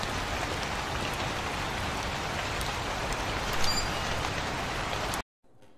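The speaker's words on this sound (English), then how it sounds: "Oh, I love the rain atmosphere though." Rain pours steadily in the video game Night Security, an even, dense patter that swells a little near the end before cutting off abruptly to near silence.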